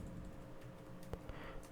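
Keys tapped on a computer keyboard while code is written for an Angular tutorial, a soft continuous patter of keystrokes with one sharper click standing out, close and fairly quiet.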